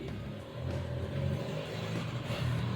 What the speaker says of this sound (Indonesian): ada motor lewat ini, mesinnya agak berisik